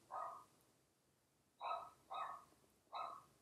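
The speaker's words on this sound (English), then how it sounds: "Just wondering what my dog is barking at." A pet dog barks four times indoors, the barks loud and close, with the first alone and then three coming in quick succession after a pause.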